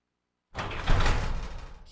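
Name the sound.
garage door sound effect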